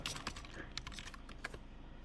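Computer keyboard keys are tapped for a password in a few soft, spaced clicks, heard close and alone.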